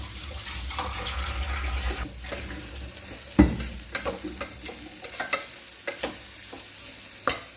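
Varagu rice biryani masala gets stirred in a pan, a low sizzle underneath a run of sharp, irregular scrapes and knocks from the spoon, close and moderately loud.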